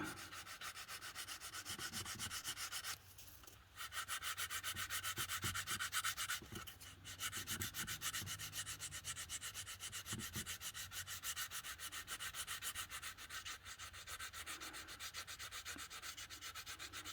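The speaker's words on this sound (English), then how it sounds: "the longer you sand on it, the better it'll get" A plastic repair being sanded by hand, a steady, close scraping rub that continues throughout with only brief pauses.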